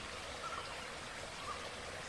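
A waterfall in a garden gives off a steady, soft rushing hiss that stays faint and even throughout, with no other sounds.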